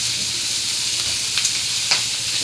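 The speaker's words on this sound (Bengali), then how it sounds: "দেখো, একটু ভাজা ভাজা করে নেবো" Fish oil sizzles and fries steadily in a pan while a catla fish curry is cooked, a close, continuous crackling hiss with a few brief louder pops and no talking.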